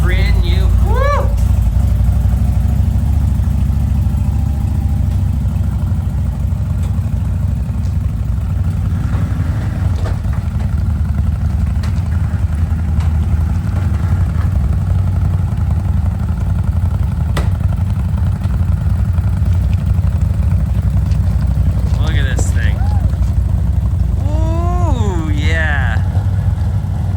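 CFMOTO ZFORCE 950 H.O. EX rock-crawling side-by-side on new 35-inch tires with a rear bumper setup, its engine running steadily and loudly nearby throughout, with people chatting over the constant drone.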